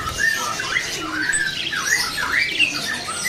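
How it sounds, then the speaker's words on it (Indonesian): A caged green leafbird (cucak hijau, PH type) at a bird kiosk gives repeated sharp, squawking chirps close by, in quick irregular bursts over market background noise. "Ini ada burung cicak hijau PH ya."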